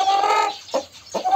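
An Indian rooster, a Hint horozu breed, clucks close by: a drawn-out throaty call followed by two short, sharp clucks, loud and alone without talk.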